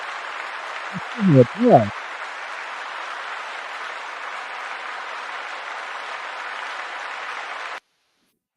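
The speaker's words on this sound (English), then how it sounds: "So I want to give you an applause for that" Applause plays during a live-stream masterclass as an even, continuous wash of clapping that lasts about eight seconds and then cuts off abruptly. A voice briefly speaks over it near the start.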